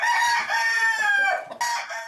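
Chickens of several breeds kept in a rented house, with a rooster crowing loudly and close in two long harmonic calls broken by a brief pause, and clucking alongside; no voices.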